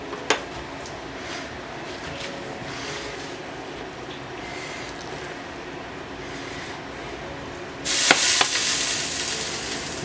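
Buttered rye pumpernickel bread frying in a pan for patty melts makes a soft, continuous sizzle with occasional utensil clicks, swelling louder near the end.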